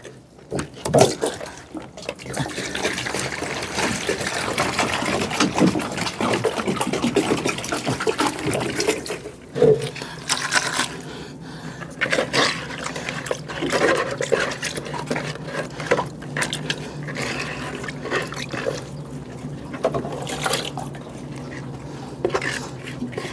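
Water being poured and sloshed into a container at a home outdoor setting, with clinking of pots or dishes and stirring, close and fairly loud, fading into scattered knocks and faint background voices.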